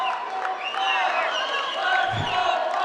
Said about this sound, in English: It's a chant you will always hear when the New Jersey Fives are present.